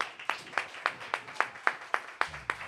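Audience applause for a band at the virtual Landmark Center gala: sparse, evenly spaced claps, roughly ten distinct hand claps in a slow rhythm, close and fairly crisp.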